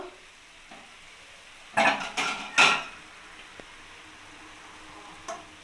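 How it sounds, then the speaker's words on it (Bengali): A lid comes off a cooking pot of potato, pumpkin and bean curry with red amaranth greens. Three quick metallic clanks and scrapes sound up close against a quiet kitchen background. "এবার আমি ঢাকাটা খুলে দেখে নেব"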